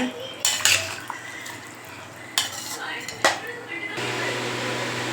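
A utensil scrapes and clatters against a pan in several strokes, stirring mutton into masala, with a soft background sizzle and faint talk.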